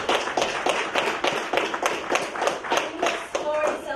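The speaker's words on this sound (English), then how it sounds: "You deserve a huge round of applause." At a county freeholders public meeting, distinct, rhythmic hand claps ring out near and fairly loud, a small group clapping steadily throughout.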